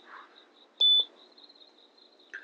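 Near the start, a short, clear electronic beep sounds from a compact instant photo printer as its menu button is pressed, followed by faint clicks and a small chirp, with quiet room tone around it.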